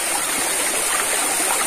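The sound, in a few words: river stream flowing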